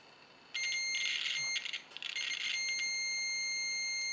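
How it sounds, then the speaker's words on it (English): A digital multimeter on continuity mode gives a high electronic buzz when its probes make contact, sounding in two or three short bursts with brief breaks, clear and close in a quiet room. "we should hear a buzz when we have a connection"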